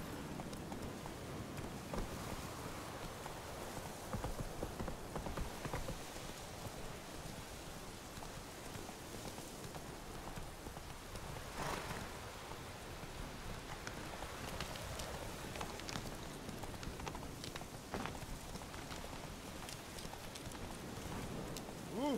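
Horse hooves clip-clop steadily while riding in The Witcher 3, a continuous rhythmic patter mixed with rain-like ambient noise, heard close with no talk.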